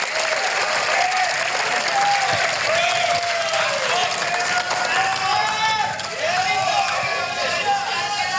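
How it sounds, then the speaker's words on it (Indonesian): A large crowd at an Indonesian party event applauds the Perindo Party chairwoman, with loud, continuous clapping and cheering throughout, and voices mixed in. "boleh tepuk tangan yang paling meriah untuk Ibu Angela Tanu Sudibyo"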